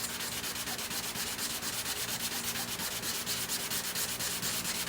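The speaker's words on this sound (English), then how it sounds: "then wet sand it with 320 to find areas like this" Steady rhythmic wet sanding of a carbon fiber spoiler by hand with 320-grit sandpaper, repeated back-and-forth strokes, close and even, with no talking.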